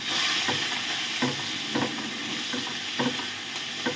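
Long-sliced onions fry in a small amount of oil for a Bengali fish curry, giving a soft continuous sizzle marked by periodic stirring scrapes every half second or so, close and moderately quiet with no voices.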